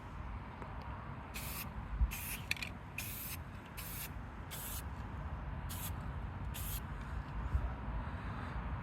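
Short bursts of aerosol spray paint coating a 1989 Nissan Sentra B12 passenger side mirror base black at home, about eight hisses of varying length, close and steady over a low background rumble.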